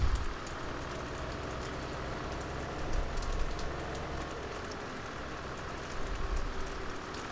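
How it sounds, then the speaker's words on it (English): Steady rain falling in the Farming Simulator 17 game world, a continuous even wash of patter at moderate level, with no talk. "when it rains like this"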